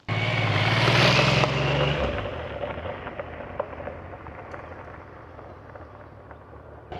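A 1999 Triumph Trident 900 motorcycle ridden on the road: a loud, steady engine note for about two seconds, then a quieter, rumbling ride with rushing wind and small bumps.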